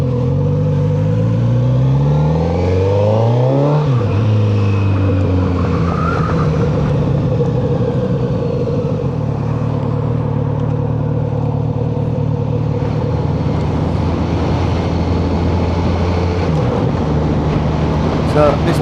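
Kawasaki Z900RS motorcycle engine pulling hard as it accelerates, a loud, steady mechanical drone with rising pitch sweeps as it runs up through the revs, close and continuous throughout.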